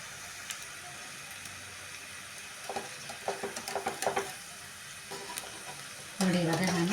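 Bun pakoda frying in hot oil as pieces are turned, a steady low sizzle with soft scraping and stirring clicks, followed by a louder surge of bubbling near the end.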